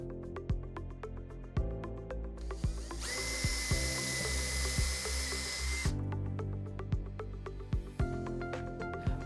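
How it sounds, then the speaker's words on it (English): A power drill whines steadily through the middle stretch, drilling mounting holes through the base piece of a channel, with shorter bursts and clicks of handling before and after, close and loud. "Next, you'll drill your desired mounting holes through the base piece of the channel."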